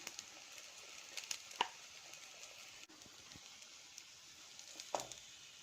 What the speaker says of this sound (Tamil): எண்ணெய் சூடானோடனே நம்ம ஒவ்வொன்றா இதில் போட்டுடலாம்.